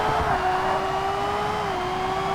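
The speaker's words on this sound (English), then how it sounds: "Funny thing is, this car is so high pitched, I can hear it with low volume." A Ferrari race car engine screams at about 10,000 RPM in Forza Motorsport's endurance R P1 class. It is a steady, loud, high-pitched whine that holds close and constant with only slight pitch shifts, and no voices.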